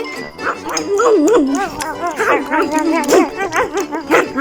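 Dogs whimper, whine and yip continuously at close range, their high wavering cries rising and falling in quick succession.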